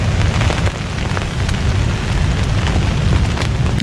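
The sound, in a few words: rain falling on a pup tent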